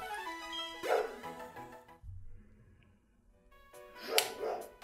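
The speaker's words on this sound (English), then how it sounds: "I am so sorry for my dog barking." A pet dog barking indoors: two short, sharp bursts of barking a few seconds apart, fairly close and clear, with a quiet pause between them.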